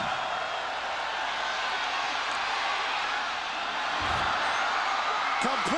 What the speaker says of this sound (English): Hall trying to be heard above this roaring crowd.